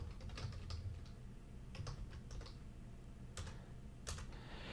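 Steady typing on a computer keyboard, fairly close and soft, in quick irregular bursts of key clicks with short pauses, no one talking.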